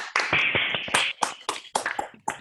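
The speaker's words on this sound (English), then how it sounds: "I want everyone to turn on the mic for an applause to Nadia" Online participants in a video call unmute to applaud Nadia, giving a few ragged, separate bursts of clapping through compressed microphones, uneven and intermittent rather than a steady ovation.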